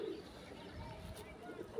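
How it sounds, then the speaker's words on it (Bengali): Pigeons coo faintly at a pigeon farm, with soft low coos at the very start and end over a dull steady background hum. "এই যে আমাদের কবুতরের খামারটা, এই যে এটার ভিতরে যখন কবুতর বসে আছে।"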